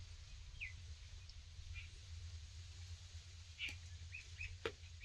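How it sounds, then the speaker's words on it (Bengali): A common myna calls around a village house, a few faint, brief chirps and whistles scattered over a low, steady background hum, fairly distant and quiet. "ওই দেখো শালিক পাখি"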